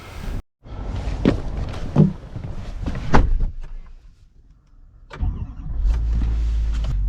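Car door and mechanical sounds from a 2024 Chevy Silverado dually pickup as it starts up to drive, with a short gap of silence, then a steady low engine rumble building near the end. No talking.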